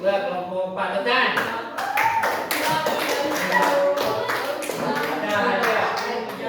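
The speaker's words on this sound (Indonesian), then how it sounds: "ini ketua kelompok 4, tepuk tangan" Students in a classroom clap for group 4, a burst of close, sharp, uneven hand claps lasting several seconds with voices mixed in.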